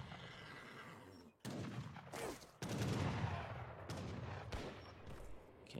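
Cannon fire in Age of Empires 3, with heavy cannons and Imperial Culverins in a battle: several sharp booms cut through a dense, continuous din of gunfire and clashing combat.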